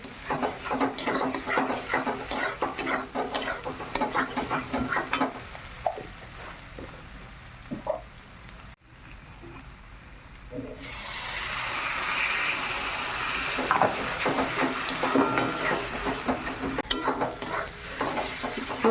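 Spice paste of chilli powder and green chilli for ghugni fries in a pan, giving a loud, steady sizzle under repeated spatula stirring and scraping, a brief lull midway, then stronger hissing frying.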